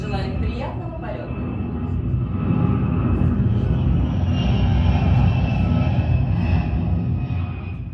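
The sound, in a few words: airplane taking off sound effect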